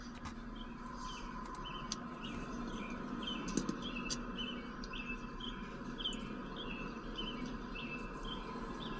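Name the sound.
birds singing in the background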